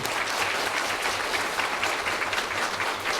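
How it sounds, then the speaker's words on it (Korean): A church congregation gives loud, dense, continuous applause for newly baptized and confirmed members during a baptism and communion service. "오늘 세례입교 받으신 분들께 다시 한 번 더 축복의 박수 보내주십시오"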